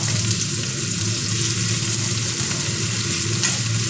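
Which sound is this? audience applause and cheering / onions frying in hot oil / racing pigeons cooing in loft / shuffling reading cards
onions frying in hot oil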